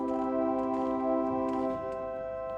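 Church organ at St Mary the Virgin, Rotherhithe, holding a chord with one stop drawn only halfway, giving a thin, wavering, slightly off tone; steady sustained notes with faint room noise.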